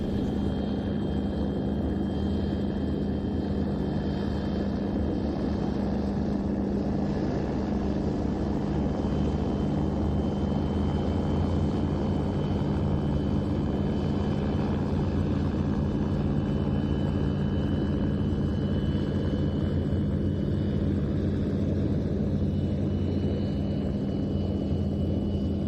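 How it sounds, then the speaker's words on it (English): A Red Bull Bölkow Bo 105 helicopter arrives over an airshow, giving off a steady, moderately distant rotor and engine drone with a persistent low hum that lingers for the whole stretch. "now making its way in from the left, the Red Bull Bolko Bo 105"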